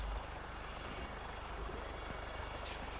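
Propeller aircraft in a military video game drone loudly overhead with a steady, rhythmic engine throb that does not let up.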